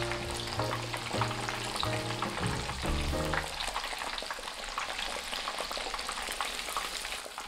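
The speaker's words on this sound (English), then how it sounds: "turn the tonkatsu over one last time and deep fry for another 1 minute." Tonkatsu pork cutlets deep frying in oil at about 175 to 180 degrees Celsius give a loud, dense, steady sizzle and crackle throughout, with a brief rhythmic tone pattern at the start.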